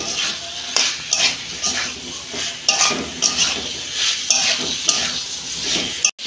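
Potato and cauliflower stir-fry in oil in a pan, a steady close sizzle broken by repeated scraping strokes and knocks of a spatula against the metal.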